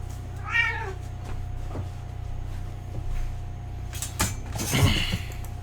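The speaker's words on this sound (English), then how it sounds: "I have a cat outside." A cat meows outside at a door, one clear meow early on followed by door rattling and handling sounds, with another cat vocalization near the end.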